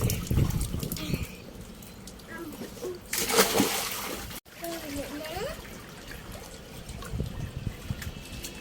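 A child cannonballs into a backyard swimming pool, making one brief, bright splash amid gentle trickling water, with voices of family members chatting before and after.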